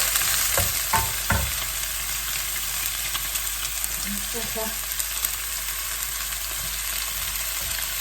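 Morning glory greens fry in a wok while fresh wide rice noodles are being stir-fried, giving a steady, loud sizzle with a few metallic clanks of stirring near the start.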